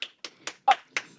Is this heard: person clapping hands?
yes